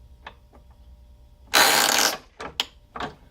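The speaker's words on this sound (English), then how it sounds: "I'll take and press this. It's going to be kind of noisy, like a squeaky door." A burst of loud squeaking and grinding from a hand press assembling a teal duck call, followed by a few short mechanical clicks and creaks.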